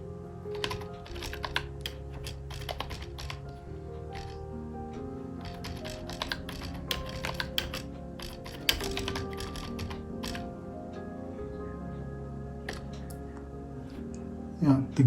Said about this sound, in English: So let's test the keyboard now.